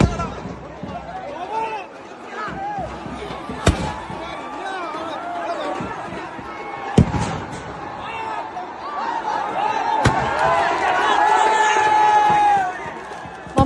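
Crowd noise from spectators at a sevens football match in Malappuram, Kerala, a steady murmur of chatter and shouts, broken by a few sharp bangs from fireworks going off nearby, with the crowd swelling louder toward the end.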